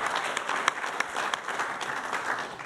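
An audience at a prostate cancer information evening applauds, a steady wash of many hands clapping at moderate distance, fairly quiet and sustained throughout.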